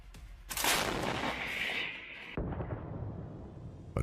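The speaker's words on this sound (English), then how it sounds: "That's when Ukrainian M777 opens fire." Ukrainian M777 howitzer artillery firing in combat: a loud, close blast with a sharp onset, a long rumbling roar, then a second heavy boom, with no talk.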